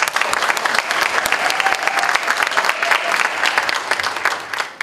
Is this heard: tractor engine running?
no